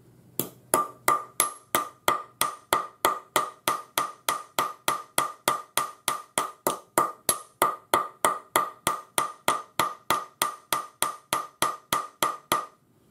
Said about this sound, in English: Now what we want is a fairly deep mark, hammer mark, so that it looks a bit like a chip